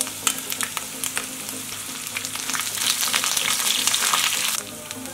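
Curry leaves sizzle in hot oil with chana dal, urad dal, green chillies and grated ginger while vermicelli upma is prepared, a close, loud crackling frying hiss that swells midway, with a few stirring clicks and no talk.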